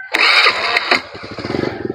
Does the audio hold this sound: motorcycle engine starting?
yes